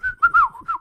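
A person whistles in imitation of songbirds: a quick run of bright, chirping, warbling notes in short bursts, close and clear, with no talk.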